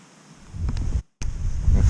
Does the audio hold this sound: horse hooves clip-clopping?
no